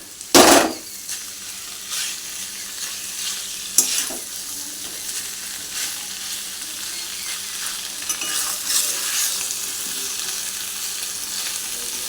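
Shrimp and taro stolons stir-fry with spices in a pan, a loud continuous sizzle running throughout, opened by a sharp utensil clatter and followed by occasional scraping stirs.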